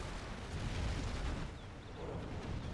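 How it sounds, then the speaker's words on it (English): A demo charge detonates in a real-time strategy game, a deep rumbling boom with a broad, noisy blast that stays loud and rolling for a few seconds with no talk over it. "Now he's detonated it, yeah."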